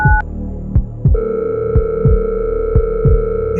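A telephone call connecting, with a steady electronic ring tone sounding over repeated low thumping pulses in a regular rhythm, loud and close, no talk.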